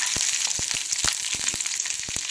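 Onions and green chilies fry in oil in a pan, giving a close, continuous sizzle with crackles and pops, no speech.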